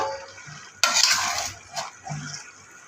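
Beef pieces for a Peshawari-style curry hit a hot pot on a lit stove with a sudden loud sizzling hiss, dying back through a second of frying crackle, then a couple of faint clinks and stirring scrapes.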